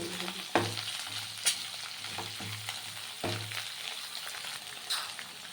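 Vegetables with crushed ginger being stirred in hot oil for a winter vegetable chorchori with fish head: steady close sizzling frying with repeated scraping stir strokes at an uneven rhythm, no talk.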